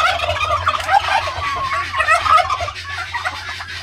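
Bourbon Red turkey toms gobble repeatedly in a pen, loud overlapping calls from several birds close by over a steady low farmyard hum.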